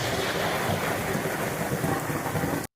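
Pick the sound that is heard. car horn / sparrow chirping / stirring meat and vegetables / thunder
thunder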